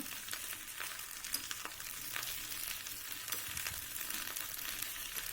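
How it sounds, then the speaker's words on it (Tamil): Okra sautés in oil in a pan over a medium flame, giving a steady, close sizzle and crackle with occasional sharper pops throughout, no voices. "ஒரு பத்து நிமிஷம் வதக்குனிங்கனாவே வெண்டைக்காய் நல்லா வணங்கிடும் மீடியம் ஃப்ளேம்லேயே வச்சு வணக்குங்க"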